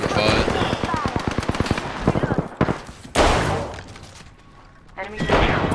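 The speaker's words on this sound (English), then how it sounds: "Getting shot at." Rapid automatic gunfire in the video game Apex Legends, loud bursts of closely spaced shots followed by heavier single blasts and impacts, with a player's voice mixed in.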